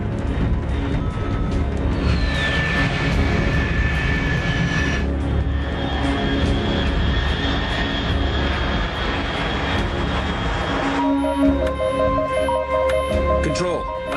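A continuous engine drone from an aircraft flying high overhead in Metal Gear Solid 3, steady and loud throughout, with a brief rising whine and some shifting tones near the end, under game music and effects; no one talks.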